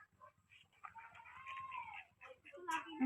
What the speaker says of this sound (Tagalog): manok. Ala, putak na yan.